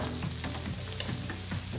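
Charred corn fries in a hot pan while being stirred, a continuous close sizzle with rhythmic scraping sweeps of the utensil and no talking.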